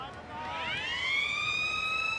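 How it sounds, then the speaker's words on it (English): A stadium siren marks the end of the first half of a 1993 rugby league match between Newcastle Knights and Eastern Suburbs Roosters, rising in pitch and then holding a steady, moderately loud wail over crowd murmur. "And the siren in the background."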